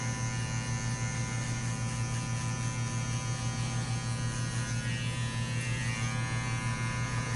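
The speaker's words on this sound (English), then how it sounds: "I'm on clipper open though. Clipper halfway." Electric hair clippers, set with the blade lever halfway, run in a steady, unbroken close buzz with a strong low hum throughout and no pauses.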